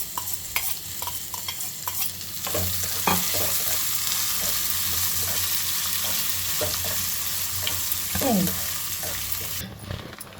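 Continuous loud sizzle of ginger frying in a pan, with scattered scraping taps from stirring throughout.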